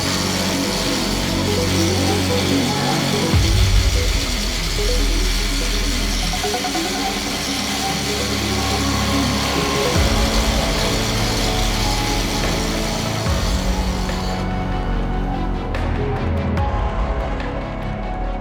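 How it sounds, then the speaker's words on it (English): An angle grinder runs at close quarters in a workshop, throwing sparks onto a Konecranes S-series synthetic crane rope; a loud, continuous whining grind shifts in pitch and load several times, then thins out near the end. "Let's do another experiment and see what happens if we grind at close quarters."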